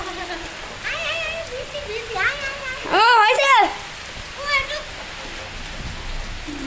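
Rain falls outdoors as a constant broadband hiss throughout, with people talking and calling out over the steady downpour.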